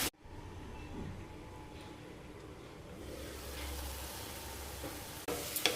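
Onions and green chillies fry in a pan for an egg fry, giving a steady close crackling sizzle with light stirring throughout, briefly louder near the end.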